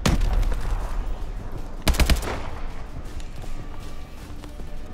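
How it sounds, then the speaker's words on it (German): Gunfire in Call of Duty Advanced Warfare crackles in rapid bursts, with a loud cluster of shots near the middle and scattered bursts around it in a busy battle scene. "Wer schießt?"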